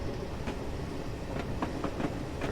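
A long British Rail train on the Woodhead Line pulls out of a platform, giving a steady low rumble with faint rhythmic wheel clicks.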